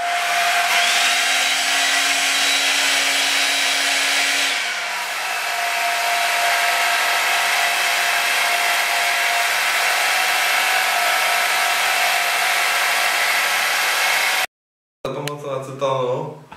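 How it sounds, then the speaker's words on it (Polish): A hair dryer kept for garage workshop jobs blows warm air in a steady, loud, unbroken whoosh with a low hum. It cuts out abruptly near the end, and a brief voice follows. "Ja używam takiej suszarki, mam ją przeznaczoną już na tylko na czynności garażowo-warsztatowe."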